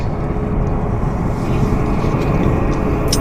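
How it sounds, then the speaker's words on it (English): A WestJet Boeing 737 airliner taxiing toward the de-icing pad at an airport, a steady broadband engine rumble and roar heard at moderate distance, continuous and unbroken with no talk. "I think we've got a WestJet 37 pulling into the de-ice"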